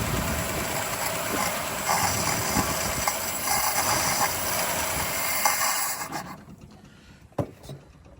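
A small ute engine runs quietly at a steady idle, a soft broadband hiss and hum, then cuts off near the end, leaving a couple of faint knocks.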